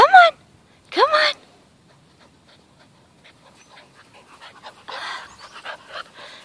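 European basset hound puppies pant and shuffle about close by in brief bursts, with a couple of sharp yelps at the start and faint movement noises after.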